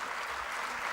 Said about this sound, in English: let's give a big round of applause for all the honorable dignitaries on the